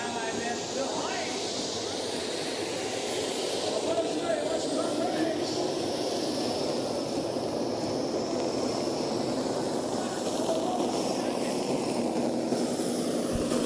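A turbine-powered mini tractor roars down the track at a tractor pulling event, giving a loud, steady high-pitched whine over a broad rushing roar that holds throughout, with a commentator talking over it.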